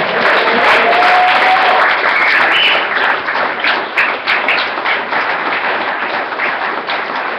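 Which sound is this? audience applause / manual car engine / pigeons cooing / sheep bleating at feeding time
audience applause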